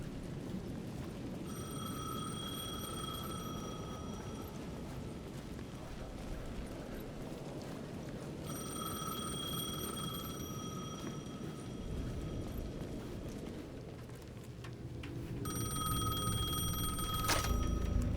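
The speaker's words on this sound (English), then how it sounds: "The payphone at the edge of the plaza was ringing again" A payphone rings at the edge of a plaza in the video game Alan Wake: three separate bursts of clear, repeated electronic ringing over a soft, rain-like ambience that swells toward the end.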